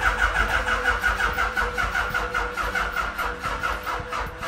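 An old motorcycle engine is started, with a rhythmic, pulsing mechanical churn that repeats steadily and close by, loud and alone without voices.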